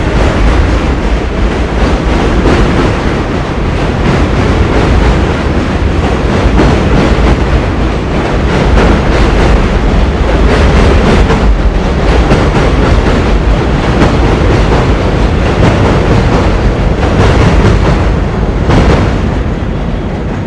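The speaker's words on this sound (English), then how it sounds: "We'll hear the beautiful sound of the train." A train rolls steadily past for the full stretch, a loud continuous rumble with rail clatter and no one talking, out on location in Pelham Bay in the Bronx.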